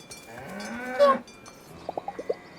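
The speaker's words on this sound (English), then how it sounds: "We have cows." Cows in the video game Dungeons of Hinterberg, one long drawn-out moo up close followed by a quick series of four or five clanking cowbell rings in an otherwise quiet scene.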